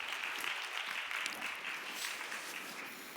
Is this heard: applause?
yes